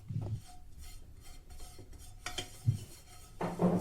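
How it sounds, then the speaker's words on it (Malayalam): A spoon scrapes and taps in a pan as ghee is spread across its surface. The small metallic clinks and strokes come close and fairly quiet, with a few firmer knocks near the end. "ഇനി ആ പാനിലേക്ക് തന്നെ ഒരു 1/2 ടീസ്പൂൺ നെയ്യ് കൂടി ചേർത്തിട്ട് ഇതുപോലെ എല്ലായിടത്തിലും ഒന്ന് സ്പ്രെഡ് ചെയ്ത് കൊടുക്കുക."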